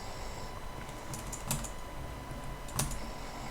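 Typing on a computer keyboard during web coding: faint, sparse key taps, with two louder clicks standing out against a quiet background hiss and no one talking.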